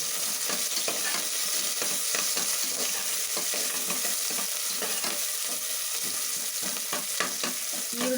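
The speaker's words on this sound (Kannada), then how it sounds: "ಈರುಳ್ಳಿ ಸ್ವಲ್ಪ ಫ್ರೈ ಮಾಡ್ಕೊಂಡು ಬರೋಣ" Chopped onion fries in hot oil in a pan, a dense, bright, continuous sizzle with constant stirring scrapes, close and steady throughout.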